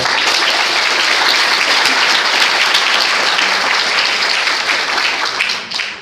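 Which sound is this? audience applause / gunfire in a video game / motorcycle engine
audience applause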